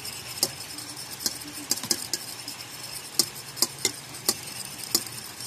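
Eggs whisked in a bowl for scrambled eggs by a young child, a steady run of light clicking taps from the utensil against the bowl, close and fairly quiet with no talking.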